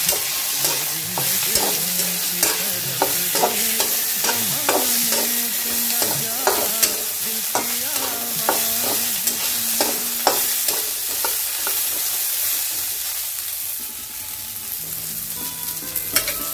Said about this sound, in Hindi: प्याज के ब्राउन होते ही और हल्का सा फ्राई करेंगे।